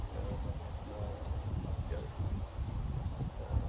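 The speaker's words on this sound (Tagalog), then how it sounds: "kikita po ninyo ngayon ang medyo mahangin" Wind buffets the microphone outdoors in a continuous low rumble with gusty fluctuations, faint rustling underneath.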